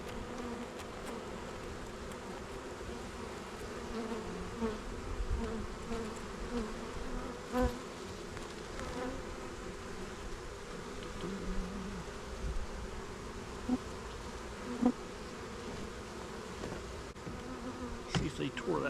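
A swarm of honey bees drones in a dense, continuous buzz around a hive and swarm trap, steady and close, with occasional louder passes of individual bees.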